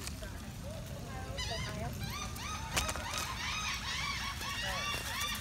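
A swan near Florida flamingos gives repeated honking calls, nearby and fairly faint, over a bed of outdoor background noise.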